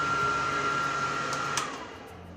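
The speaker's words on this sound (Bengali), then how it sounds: "আর এখানে হচ্ছে আপনার হ্যান্ড ড্রায়ার, আপনি হাত শুকোতেও পারেন।" A hand dryer runs in a station washroom at Mumbai Central, giving a steady whooshing blast with a faint whine that tapers off toward the end.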